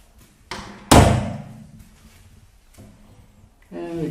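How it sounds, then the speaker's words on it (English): An unsealed recording-studio door closes with a single loud, sharp slam and a short echoing thud inside the room, followed by quieter handling noise and a soft thump. "And we can go inside and close this door"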